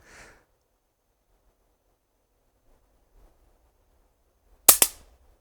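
A Marksman Repeater toy pistol fires, giving two sharp, close snapping shots in quick succession after near silence, with a faint breath earlier.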